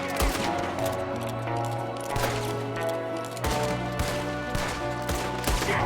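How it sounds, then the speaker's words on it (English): Repeated gunshots crack out in a Red Dead Redemption 2 firefight against a shooter firing from a window. Sharp, loud reports come in bursts and scattered single shots over a steady game backdrop. "There's another one shooting from the window."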